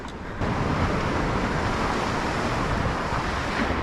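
Big ocean waves breaking and surging onto a rocky shore in the splash zone while fishing, a loud continuous roar of surf with wind that swells up after a brief quieter moment and stays heavy throughout.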